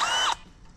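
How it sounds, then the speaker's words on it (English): Power drill boring a tap hole into a maple tree outdoors, the drill used also for ice fishing: a loud, whirring burst that stops abruptly after a third of a second, leaving quiet background. "Drill's ready to go."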